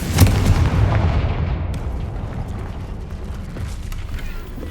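A Confringo spell blast goes off in the video game Hogwarts Legacy, a sharp loud boom at the start followed by a long rumbling decay and scattered crackles.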